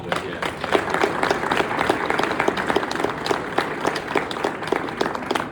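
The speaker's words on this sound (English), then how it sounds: "give them a round of applause if you would" Steady applause from an audience in a hall during a memorial speech for a wrestling coach, many hands clapping continuously at moderate loudness with no speech on top.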